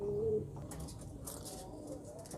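A male pigeon gives soft, low cooing calls close by, faint against quiet background noise.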